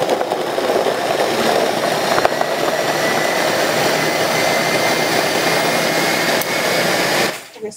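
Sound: blender blending carrot smoothie

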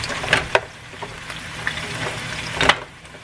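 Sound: pan-seared salmon sizzling in a pan

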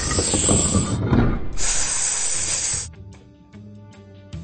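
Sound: snake hissing behind a door in PAW Patrol video game

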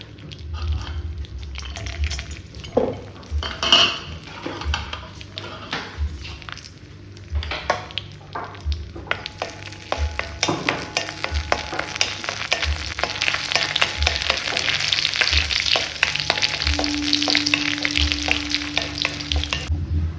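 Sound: cashews frying in ghee in a pan

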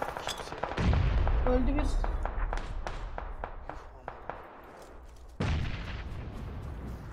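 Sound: grenade thrown and exploding in the video game PUBG

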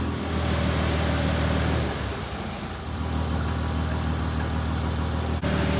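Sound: car engine idling while warming up

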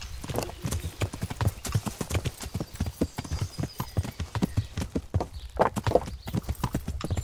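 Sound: horse hooves clip-clopping in video game

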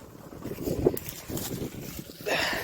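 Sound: strong wind on microphone

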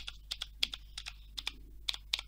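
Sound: typing on Aukey KM-G3 mechanical keyboard

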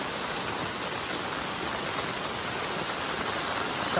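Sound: heavy rain

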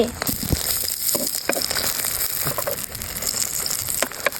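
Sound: egg mixture frying in oil

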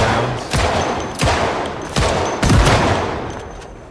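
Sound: gunfire in the video game Project Zomboid

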